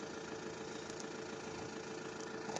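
Alfa Romeo Giulietta 2.0 JTDM 170 diesel fitted with an Ulter Sport dual sport exhaust, running steadily with a low rumbling drone and a slight rise in revs near the end, close and continuous with no talk.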